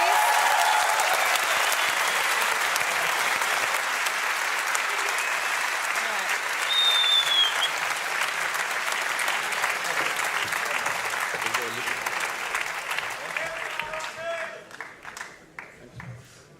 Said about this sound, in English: Can we get a round of applause for your TI8